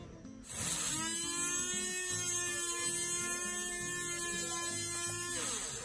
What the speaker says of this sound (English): As you heard, there is the motor is spinning.